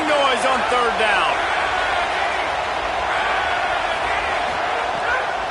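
A loud football stadium crowd roaring on third down, a dense sustained wall of cheering and noise with whistles and shouts near the start.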